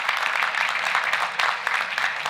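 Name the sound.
audience applause at sports awards dinner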